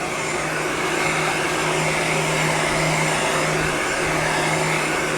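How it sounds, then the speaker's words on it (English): A heat gun blows a steady, loud, breathy roar with a faint hum as it warms a dented drum hoop on a 1968 Ludwig Super Classic kit, unbroken throughout with no talk. "I'm just hitting it with the heat gun to bring the dent out a little bit"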